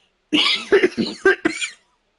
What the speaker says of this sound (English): I still have my cough lingering.